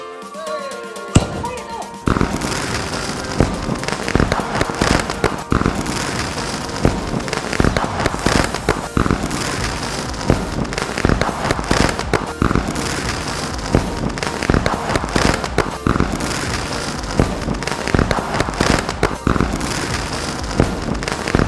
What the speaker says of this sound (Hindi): हमारी एडिटर महोदया फोड़ने जा रही है पटाखा भाई।